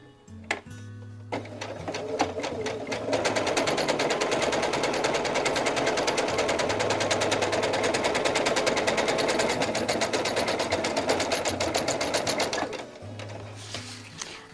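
A sewing machine runs a quarter-inch seam down the long side of a quilt strip set, its needle chattering in a fast, steady rhythm for about ten seconds, close and loud, with brief quiet pauses at the start and end.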